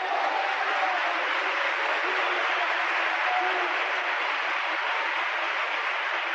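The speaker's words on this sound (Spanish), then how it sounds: "Le damos un aplauso al Señor" Church congregation giving sustained applause, a steady, even roar of many hands clapping that holds at constant loudness from start to finish.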